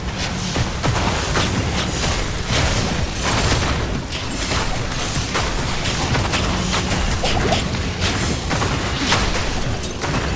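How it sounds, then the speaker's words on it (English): Dense, crashing spell explosions from the video game Diablo 2 Resurrected burst repeatedly in quick succession, layered into a constant loud barrage of impacts and booms with no pause. "That explosion, I'm so glad I invested in this explosion stuff."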